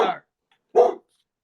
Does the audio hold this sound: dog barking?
yes